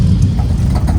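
A car engine running loud after damage from an incident, a dense, close low rumble holding steady through the moment with slight fluctuations.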